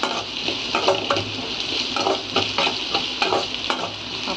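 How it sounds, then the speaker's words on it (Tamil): Onions sautéing in a pan for a mushroom dish, a continuous close sizzle broken by repeated scraping strokes of a spatula in a steady rhythm. "வெங்காயம் நல்லா கோல்டன் கலரில் வதங்கிட்டுருக்கு."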